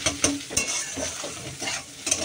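Egg frying with onion and chili sizzles steadily in a pan over high gas, while a utensil scrapes and stirs in several close, uneven strokes.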